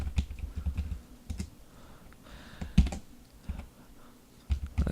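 Typing a password on a computer keyboard in the Ubuntu 12.04 terminal, bursts of quick soft key clicks with short pauses between them, close and quiet with no talk.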